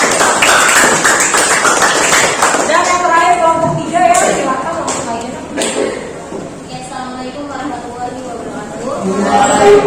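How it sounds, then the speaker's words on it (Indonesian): A classroom audience gives a group of presenters a short round of clapping, scattered and lively at first and tapering off, with voices chatting over it. "kasih aplaus untuk kelompok"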